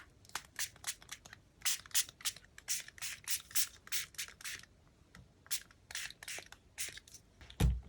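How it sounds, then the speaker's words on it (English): Short bursts of gold aerosol spray paint hiss in quick succession, some clustered, others spaced apart, close and fairly quiet. "And now spray with gold."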